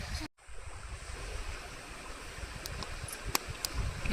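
A river stream flows beside a riverbank cooking spot with a freshly built hearth, giving a steady, close rushing wash of water with no voices.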